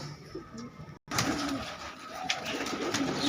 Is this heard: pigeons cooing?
yes